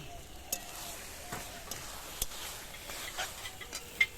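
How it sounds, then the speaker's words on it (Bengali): Taro leaves (kochu shak) with turmeric are sautéed and stirred in a pan, making a faint, even hiss with a few soft scattered scrapes and clicks. "এইভাবে নেড়ে চেড়ে কিন্তু কচু শাক ভালোভাবে চচ্চড়ি করে নিতে হবে"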